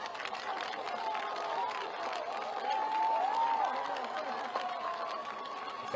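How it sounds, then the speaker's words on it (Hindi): A crowd at a public rally in Sangam Vihar, Delhi applauds and chatters, a dense, moderately loud wash of clapping that carries on steadily throughout. "संगम बिहार वालियों की तालियों में कमजोरी है।"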